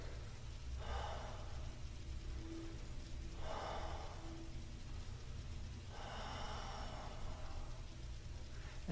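Slow, deep breaths taken while holding a standing yoga leg stretch, three soft airy inhales and exhales spaced evenly over a quiet room hum.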